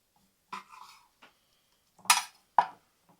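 A knife slicing cooked dry-brined steak on a board: a few short, close cutting and scraping strokes with soft clinks, separated by quiet pauses.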